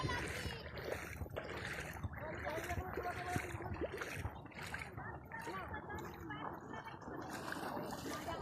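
People bathe in rising river water, and steady splashing and sloshing carry on throughout, mixed with voices and outdoor bustle.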